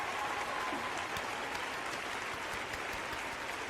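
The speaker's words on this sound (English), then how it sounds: "Round of applause for our lovely couple this morning." A studio crowd applauds steadily for a couple on a morning show, the dense clapping holding at an even level from start to finish with no voices breaking through.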